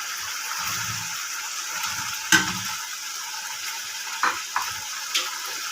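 Tinda and mutton frying together in a pan, a steady soft sizzle with a few sharp clinks and stirring knocks near the middle and end, no talking.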